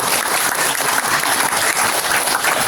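A steady, dense wash of audience applause fills a Buddhist memorial service hall, even and sustained throughout with no talk over it.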